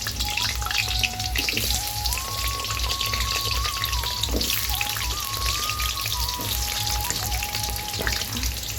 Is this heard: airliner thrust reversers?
no